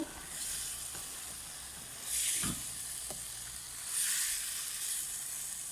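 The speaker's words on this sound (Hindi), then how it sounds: "इसको भी हम 8 से 10 मिनट अच्छे से फ्राई करेंगे इनको" Green beans and potatoes sizzle steadily in a frying pan. Two louder swells of hiss mark stirring, and a few soft clicks of a utensil sound against the pan.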